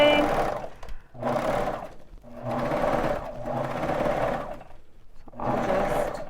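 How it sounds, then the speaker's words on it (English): Baby Lock Vibrant serger stitching and knife-trimming fabric on toddler pajamas in four bursts of fast whirring hum with short pauses between; a voice speaks briefly. "the knife on the serger will cut those threads off and any extra fabric"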